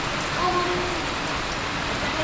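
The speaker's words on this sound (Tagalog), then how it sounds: "Kaya mga belly, umuulan." Steady rain pours down outdoors, a continuous even hiss of falling water that runs unbroken throughout, with faint voices in the background.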